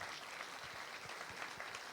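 Congregation at a church's tenth birthday service applauding steadily, a dense, even wash of clapping and cheering that stays fairly distant and continuous throughout, with no speech over it.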